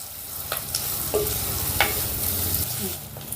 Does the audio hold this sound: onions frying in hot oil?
yes